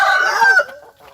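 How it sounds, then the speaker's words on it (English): A farm rooster crows once, close and loud, a single drawn-out cock-a-doodle-doo that trails off, with faint background noise afterward and no talking. "And there's one rooster over there. He's making the cockadee-cadoo"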